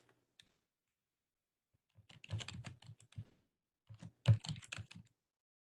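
Someone types a command on a computer keyboard in two quick bursts of crisp, close clicking separated by short pauses, with near silence before.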